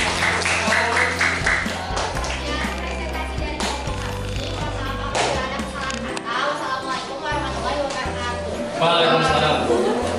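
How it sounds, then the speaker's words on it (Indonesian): Classroom applause at a senior high school economics lesson, given for a student group: a sustained patter of clapping that runs throughout, mixed with voices and other background sound. "Tepuk tangan buat kelompok 3B"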